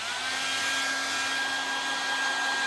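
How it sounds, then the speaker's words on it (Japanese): A hair dryer runs steadily with a constant whooshing blow and a faint whine, close and unchanging throughout, with no voices. "ちょっとドライヤーします。"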